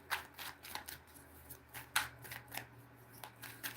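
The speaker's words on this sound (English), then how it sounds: "Let me get some tarot on the deck. Spirit, give me 3 cards for Teresa." A deck of tarot cards is shuffled by hand nearby, giving quick papery riffles and flicks in irregular bursts, with no voices.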